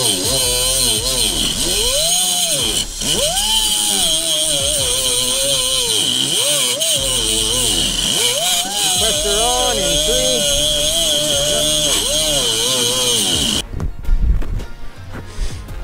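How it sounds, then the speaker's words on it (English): A small cutoff wheel grinds through sheet metal beside a fuel filler neck, its high whine rising and sagging as it bites under load, continuous and close for about fourteen seconds before stopping abruptly. "I've got to cut past the fuel neck with the little digging wheel, the little cutoff wheel"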